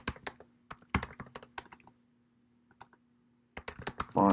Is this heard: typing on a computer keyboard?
yes